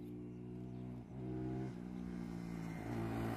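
A motorbike runs on a hillside road, a steady low engine drone that dips briefly and then rises again as it carries on, loud and close throughout with no talking.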